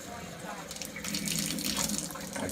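Water streams steadily from a pullout kitchen faucet sprayer into a sink, a continuous hiss that swells slightly louder partway through.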